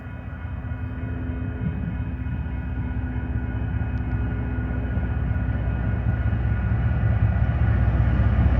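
A BNSF freight train led by locomotive 3748 rumbles past steadily and loudly, a continuous low, heavy drone that holds level throughout with no voices.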